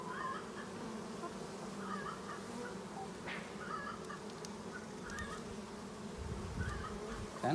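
Honey bees from a swarm colony buzz around a hive frame during an inspection, a steady close droning hum with some brief rustling and knocks.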